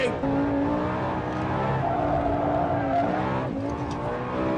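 Lamborghini Gallardo SE engine droning and shifting pitch under load as the ESP stability system grabs the brakes, with light tire scrub, loud and close throughout.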